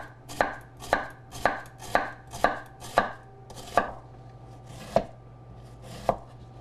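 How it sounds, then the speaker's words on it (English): A knife chops vegetables such as red onion on a cutting board for guacamole in a steady run of sharp, close thuds, about nine strokes, slowing toward the end with no talking. "all the chopping is done right here"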